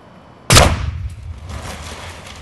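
A potato launcher fires at a watermelon wearing a bicycle helmet, one sharp loud bang followed by a decaying rumble and scattered rattling debris.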